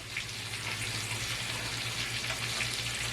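Onion and broccoli stir-frying with beef in a hot pan produce a continuous, close, even sizzle with a low steady hum underneath and no talk.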